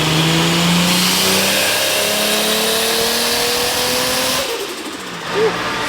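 A Toyota JZX90 engine revs hard on a dyno power run, climbing steadily in pitch, loud and close, then drops off as the throttle is released near the end.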